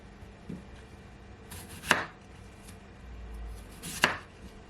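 Two sharp knife chops strike through potatoes onto a cutting board, spaced a couple of seconds apart, close and crisp over a quiet kitchen background.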